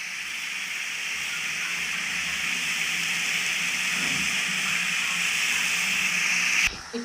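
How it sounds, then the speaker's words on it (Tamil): Half a kilo of washed chicken sautéing in a pan for hotel-style chicken pepper soup, a steady, loud hiss of steam and sizzle that continues throughout, with a brief clatter near the end. "இப்போ வந்து இதில் நம்ம கழுவி வச்சிருக்க சிக்கன் போட்டுடலாம்"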